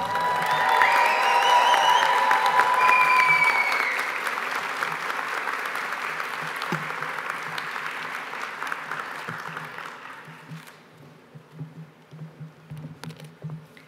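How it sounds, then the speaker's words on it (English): Audience applause at a university commencement ceremony, steady and fairly loud for about ten seconds before thinning into scattered claps and tapering off. "give her a round of applause"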